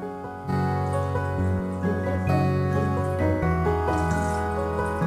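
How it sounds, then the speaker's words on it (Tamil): Water poured into a pan to make sugar syrup for bread gulab jamun, a steady close stream running continuously after a brief quiet start. "கிளாஸில் ஒரு கிளாஸ் தண்ணி ஊற்றிக்கணும்."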